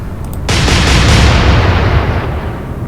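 Naval guns fire in the naval warfare game Atlantic Fleet, a sudden loud blast that rolls into a booming, rumbling tail of explosion.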